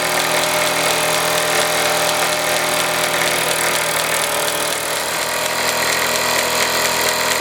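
A Meccano MEC1 model steam engine drives a small six-tool workshop of hammers and presses through drive bands, giving a loud, continuous mechanical whirring and rattling with rapid ticking that runs steadily throughout.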